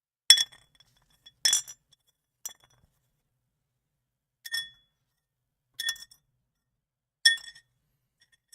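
A chunk of quartz rock dropped into a gold pan during a gold panning session, giving six sharp glassy clinks spread over several seconds with silence between them, close and clear.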